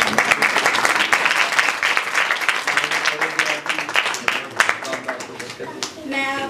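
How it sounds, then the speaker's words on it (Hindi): Loud, sustained applause for the pastor from a Hindi-speaking church congregation, many hands clapping close and dense, with faint voices and a bit of tonal sound underneath toward the end. "तालियां।"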